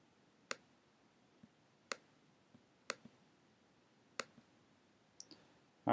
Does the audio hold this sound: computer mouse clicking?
yes